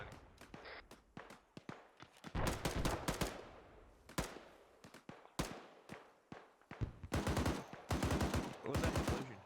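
A .50 caliber machine gun mounted on a Humvee fires in the Arma 3 video game, loud rapid bursts of heavy shots in repeated clusters with short gaps between them and quieter scattered gunfire underneath.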